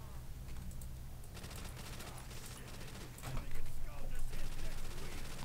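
Bursts of rapid automatic gunfire come from Call of Duty: World at War custom zombies play on a farm swamp map, growing louder toward the end, with keyboard clatter and some talking.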